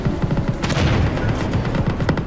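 Booming cannon and tank gunfire in a tank war simulator game, a dense run of heavy overlapping blasts at close range with no talk over it.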